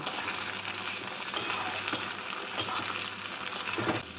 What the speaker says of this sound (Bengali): টমেটোটাকে পেঁয়াজের সাথে নাড়াচাড়া করে নিলাম